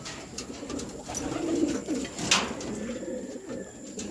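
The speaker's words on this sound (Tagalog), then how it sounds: "Pasukin na natin mga kalapatids." Pigeons coo softly in a loft, several low throaty calls overlapping with faint chirps and rustling, close by with no talk.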